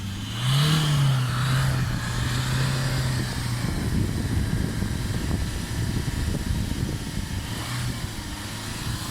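A Fiat Doblo 1.3 Multijet diesel idling and briefly revving during a particulate filter cleaning treatment, a steady low engine drone with a rising rev near the start, close and continuous with no talk.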